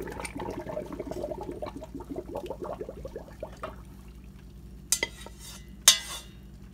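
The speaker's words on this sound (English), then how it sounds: "you drain the macaroni" Cooked macaroni is tipped from a pot to drain, with rattling, clinking pasta and metal for a few seconds, then quiet, followed by two sharp knocks near the end.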